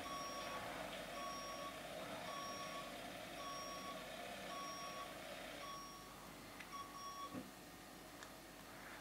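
A construction truck in Bau Simulator 2014 hums along while its reversing alarm beeps in a steady, evenly spaced rhythm. The beeping stops partway through, leaving only the engine drone and a few soft knocks.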